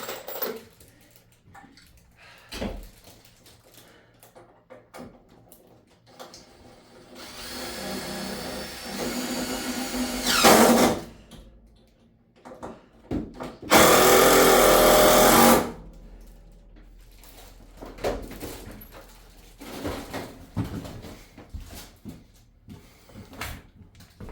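A power drill drives screws into the ceiling of a garage attic, two loud whirring bursts of a few seconds each standing out amid scattered clunks and handling noise close by.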